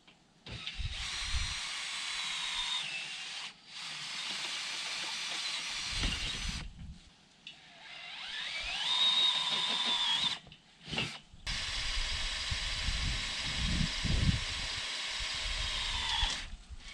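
Power drill boring into stone to set anchors for mounting a thermal solar panel, heard as several sustained whining bursts separated by short pauses, with low thumps between them.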